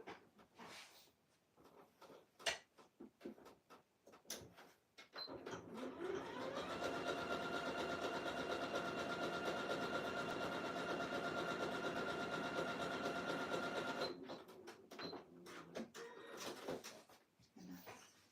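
A sewing machine stitches across the bottom edge of a fleece robe, running in one steady, continuous burst of about nine seconds, with quieter fabric handling and rustling before and after.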